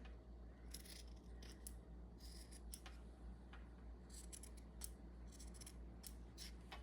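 Scissors snip paper into rounded corners for a craft, giving a quick series of faint, crisp cuts close by in a quiet room.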